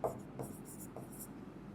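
Marker or chalk strokes on a board during a chemistry lesson on the mole concept, a few short scratchy bursts close by with a faint voice underneath.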